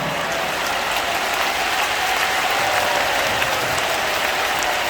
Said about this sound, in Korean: 2층 성도들은 다 박수 치는데 어르신들은 안 치고 난리야